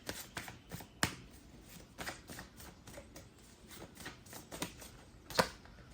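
Tarot cards are shuffled by hand, with soft, quick riffling and slapping bursts and a few sharper clacks, close and fairly quiet.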